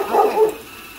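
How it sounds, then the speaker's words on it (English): A pet dog gives a quick double bark indoors, loud and close, while a lawn mower runs outside, followed by a brief quiet. "My dog's barking because my son's outside mowing the lawn"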